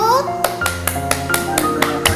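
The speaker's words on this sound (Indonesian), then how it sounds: "beri tepuk tangan untuk kelompok 1" A class of schoolchildren claps for a student discussion group, a series of about eight evenly spaced, fairly close claps over a steady hum, with a voice briefly at the start.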